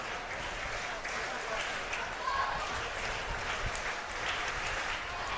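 A football stadium crowd at Rizal Memorial Stadium during a Philippines vs. Chinese Taipei international friendly, a steady wash of distant cheering and roaring that holds at an even level throughout.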